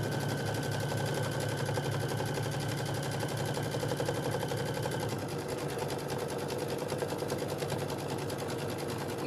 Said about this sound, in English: We are going to do some sewing on the sewing machine.